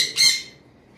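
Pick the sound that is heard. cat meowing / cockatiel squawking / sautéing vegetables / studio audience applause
cockatiel squawking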